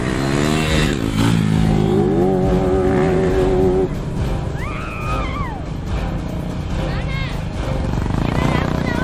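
Motorcycles ridden by a group of bikers doing stunts on a road, engines revving loudly and steadily with rising and falling whines, close by, blended with a busy outdoor crowd din.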